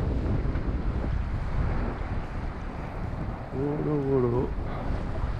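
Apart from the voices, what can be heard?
wind on a sailboat at sea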